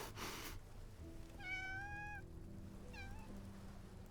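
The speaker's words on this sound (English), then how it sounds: "A cat isn't a log. Come on, pet it." Two clear meows from a cat in the video game Love and DeepSpace, the first a longer drawn-out call and the second shorter, over a steady low game music background with a brief noisy burst at the start.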